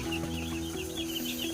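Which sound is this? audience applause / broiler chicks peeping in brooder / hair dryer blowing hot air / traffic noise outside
broiler chicks peeping in brooder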